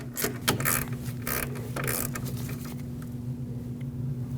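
A ratchet tightening the brake caliper guide pin on a Lexus IS250, several quick close clicking strokes in the first two seconds, then a low steady hum with no talk.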